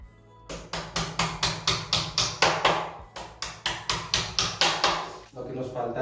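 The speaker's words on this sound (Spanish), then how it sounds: "tendría que ir pegando unos golpes con el martillo" Sharp hammer blows land in a quick, regular rhythm, about two per second, with a short pause midway before the pounding resumes, close and loud, while assembling an IKEA Släkt bed frame.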